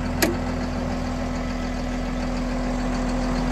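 A front end loader's diesel engine idles nearby with a steady low drone and a constant hum, and a single sharp click sounds near the start.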